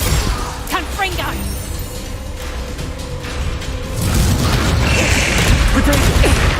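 Spell combat in the video game Hogwarts Legacy crackles with repeated booming blasts, bursts and zaps over a continuous noisy rumble, loudening partway through, with a voice speaking over the fighting.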